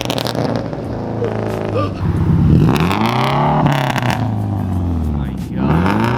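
Subaru WRX STI with an exhaust pop tune on a dyno, revving in rising and falling sweeps with sharp crackles and pops breaking through, loud and close, with voices talking over parts of it.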